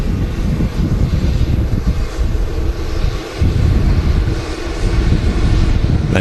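A Boeing 787 Dreamliner at Manchester Airport fills the air with a loud, continuous jet engine roar, dense and low-heavy with gusty wind buffeting on the microphone and no voices.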